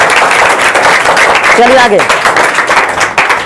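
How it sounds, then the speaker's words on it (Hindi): Loud clapping from students in a classroom, a dense burst of applause running all the way through while a teacher's voice speaks over it. "राजू के लिए जोरदार तालियां।"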